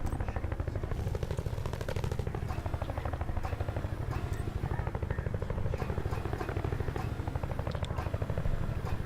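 Helicopter in a video game, a steady loud rotor and engine drone with rapid chopping pulses running throughout, with occasional clattering sounds over it.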